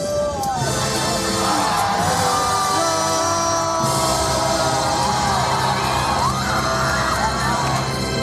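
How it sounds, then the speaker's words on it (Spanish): A crowd at the Torre de Hércules lighthouse shouts and cries out in a loud, continuous wash of voices, with sustained tonal sound running underneath throughout. "Escuchábamos los gritos de esas personas en la Torre de Hércules"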